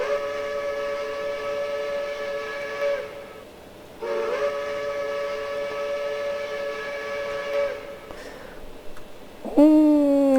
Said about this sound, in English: It's not the worst whistle sound.